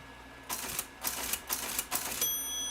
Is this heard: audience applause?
no